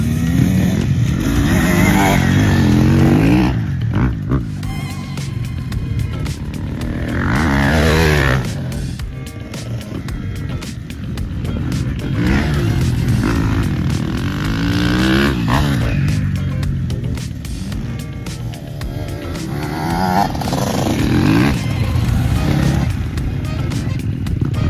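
Motocross motorcycle riding through a turn, a loud buzzing engine whose pitch swoops up and down as the rider throttles off and back on, with raspy revving bursts that rise and fall over about twenty-five seconds.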